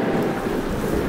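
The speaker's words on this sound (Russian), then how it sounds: "В такой шторм?" Stormy wind in a children's cartoon, a brief dense rushing roar with a low rumble, steady and loud, no voices.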